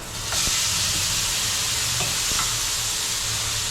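Country sausage patties sear in hot oil in a pan, giving a loud, steady, close sizzle with a few faint clicks. No one speaks.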